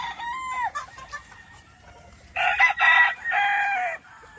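Chickens cluck nearby, then a rooster crows loudly in a rising, drawn-out call toward the end.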